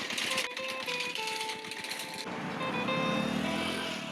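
Several motorbikes approach along a road near Joypur forest, a fast rattling engine putter close at first, then fading into a softer, more distant hum with faint tonal whine.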